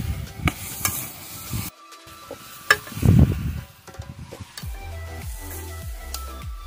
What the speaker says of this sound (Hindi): अभी इसी को पकाया जाएगा अच्छी तरह से, भून लेंगे हम इनको